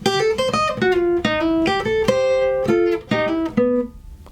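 A short run of plucked single notes on an acoustic guitar, played clearly and close, forming a brisk melodic phrase from a simplified song arrangement, without any talking.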